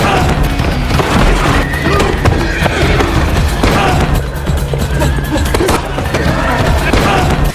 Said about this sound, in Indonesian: John Wick pun segera kabur dengan menaiki kuda